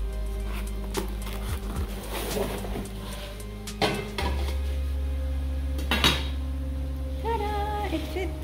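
New pots and pans from an online order clank and rattle as they are unboxed and handled, with several metallic knocks and a brief ringing clang near the end, close by with no talking.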